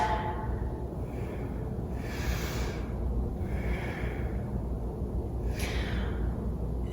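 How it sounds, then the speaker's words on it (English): Slow diaphragmatic breathing during a guided core exercise, with three soft breathy swells rising and falling at an even pace over a steady low room rumble, close and fairly quiet. "Diaphragmatic breaths."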